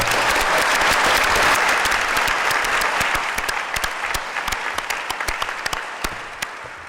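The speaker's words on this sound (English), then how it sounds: "Let's give them all a round of applause" Audience applause at a New York state tourism summit hosted by the governor, a dense burst of many hands clapping that thins out toward the end into scattered claps.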